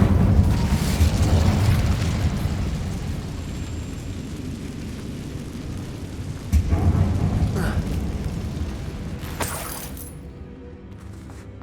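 The Incendio fire spell cast in the video game Hogwarts Legacy, heard as loud whooshing bursts of flame and crackling blasts. A big surge opens the sequence, a second flare comes midway and a sharp crack follows before it fades to near silence.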